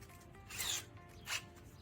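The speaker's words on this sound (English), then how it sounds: "I'll clean this bolt off" Two short, quiet rasping scrubs clean a bolt during a Suzuki Samurai battery cable fix, with a faint background between them.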